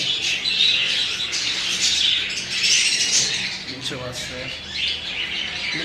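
Lutino pet birds chirp and squawk busily while eating greens in their cage, a dense, close chatter of overlapping bright calls throughout, with some faint voices mixed in.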